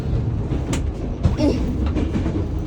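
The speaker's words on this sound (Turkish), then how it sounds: "Bu arada tren aşırı hızlı gidiyor." A fast-moving passenger train rumbles steadily from inside a carriage, a continuous loud low roar with faint wheel clatter and a few rattling knocks.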